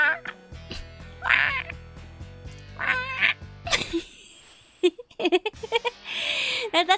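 A human voice imitates a bald eagle's call with shrill, wavering screeches in a few bursts, mixed with other squawky vocal noises and game sounds nearby.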